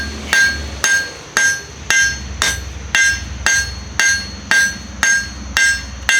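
Blacksmith striking hot metal on an anvil with a cross peen hammer, knocking down and flaring the corners of a coat rack piece: eleven loud, evenly spaced ringing blows, about one per half second, with no talk.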